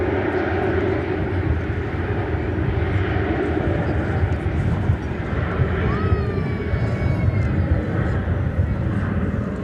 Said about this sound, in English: This is American Flight 37 coming in from Madrid.